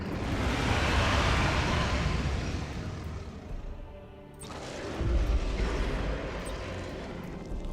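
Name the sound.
torpedoes launched in the video game Battlefleet Gothic: Armada 2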